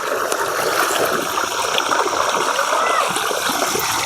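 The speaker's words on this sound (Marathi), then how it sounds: "गाईज बघू शकता, हे पाणी चालू केलंय." Water switched on at a farm gushes and splashes steadily from a pipe, loud and close, with a voice talking over the constant flow.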